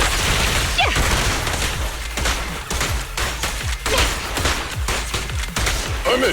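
Dense, loud volleys of gunfire from Zenless Zone Zero, with rapid overlapping shots and booming impacts that keep up almost without pause throughout, with no talking.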